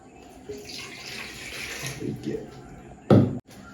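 About a litre of water pours into a bowl of vinegar and chicken, a soft splashing stream that swells briefly into a louder gush near the end.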